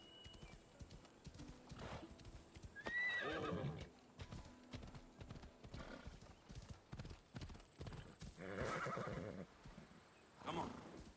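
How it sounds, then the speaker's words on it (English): Hooves clip-clop along, and a horse whinnies once in Assassin's Creed Odyssey, over a game soundtrack with bursts of other effects; the sound is quiet overall. "I'm going to press down on the D-pad to call my horse."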